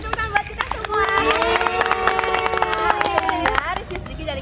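A school audience claps in a quick, dense burst, many hands close by for several seconds, with a voice talking over it before it fades.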